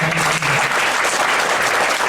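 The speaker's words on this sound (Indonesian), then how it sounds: "Tepuk tangan dong." Audience applause at a seminar, a dense burst of clapping that fills the whole moment, with a brief voice fading out at the very beginning.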